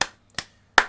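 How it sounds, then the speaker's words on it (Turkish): Three sharp, separate claps from a small audience cheering a pull-up competitor at a bar contest, evenly spaced and close, with silence between them. "bu arkadaşa özel bir alkış"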